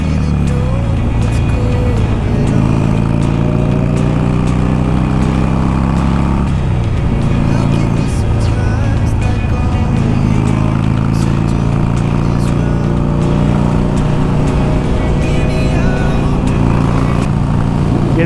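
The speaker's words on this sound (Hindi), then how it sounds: "देखिए एक एक से कैसे निकल रही है बाइकें, और मेरे एकदम से पास से निकलेंगी सभी बाइकें" Several motorbikes on a Sunday group ride, among them a Super Meteor 650 and a Hayabusa, pass close by one after another. Their engines drone loud and continuous with rising revs, and a heavy low rumble runs throughout.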